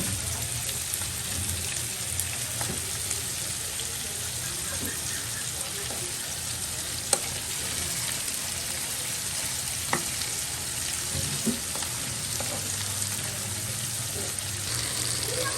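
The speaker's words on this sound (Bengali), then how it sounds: "এই তো গোস্ত বসিয়ে দিয়েছি, বুঝতে পারছেন।" Meat sizzles steadily in a hot pan, a continuous close-up crackle with occasional soft clinks of a utensil stirring; dried fish frying nearby.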